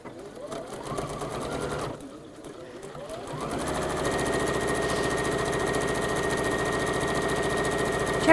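A sewing machine stitching quarter-inch vertical seams runs in a quick rhythmic whir, starting and stopping at first, then settling into a long, steady, loud run while a voice talks briefly underneath.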